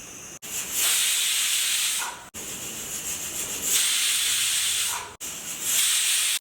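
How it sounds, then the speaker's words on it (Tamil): A pressure cooker cooking pearl millet rice on a village stove lets out long, loud hissing bursts of steam, three sustained releases broken by brief gaps. "நல்ல ஸ்டீம் வந்துட்டு இருக்குங்க"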